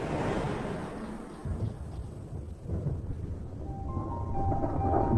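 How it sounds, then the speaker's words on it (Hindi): Low, rolling thunder rumbles continuously beneath a monsoon sky as storm clouds gather over dry grassland, swelling and fading in broad waves with no voices present. "आसमान बादलों से घिरने लगा है और बिजली भी गरजने लगी है।"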